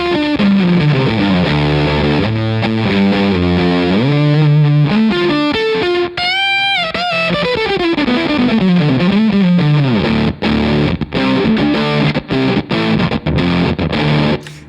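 Eureka fuzz pedal with the bass boosted, heard through an electric guitar playing a continuous, heavily saturated riff of chords and bending single notes, loud and dense throughout with no talk.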